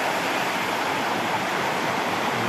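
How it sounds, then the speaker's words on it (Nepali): A loud, continuous rush of a flooded, muddy stream fills the clip, a dense roaring wash with no pauses. "यो पुरा खोलो बाढेर यस्तो धमिलै भएको छ"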